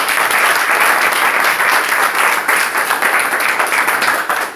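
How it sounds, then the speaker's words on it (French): Loud, close audience applause as a crowd claps for itself, with a thick, continuous roar of many hands that holds steady and dips briefly just before the end. "Applaudissez pour vous-même alors"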